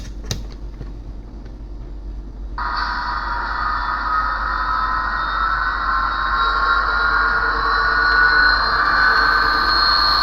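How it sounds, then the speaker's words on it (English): Model HHP-8 locomotive with a brake squeal sound effect: a sustained high, steady metallic squeal starts suddenly after a soft click and continues to the end over a low running hum, with no talk. "it sounds like it has brake squeal sound effects too"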